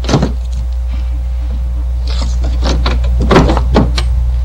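A car door lock being worked open with a Slim Jim, giving several sharp metallic clicks, rattles and thumps close up inside the door panel over a steady low hum.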